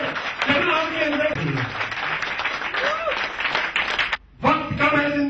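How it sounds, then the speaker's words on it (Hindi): Audience clapping and cheering at a motivational talk in a hotel hall in Karnal, India, steady and dense for several seconds, dropping out briefly near the end before resuming, with voices mixed in. "एक बार जोर से ताली बजा दीजिए, दिल लगाकर ताली बजा दीजिए"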